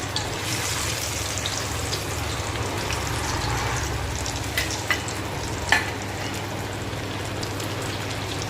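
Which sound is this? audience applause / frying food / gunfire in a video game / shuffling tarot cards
frying food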